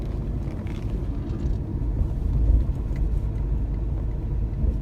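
A 2000 Chevy Camaro engine running with a low, steady, rumbling drone heard close up, holding an even level with no talk.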